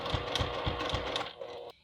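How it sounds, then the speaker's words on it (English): A sewing machine runs steadily, top-stitching a fabric wristlet bag closed in a continuous close, loud mechanical whir with regular needle thumps, then stops abruptly near the end. "And now we're just going to sew this closed."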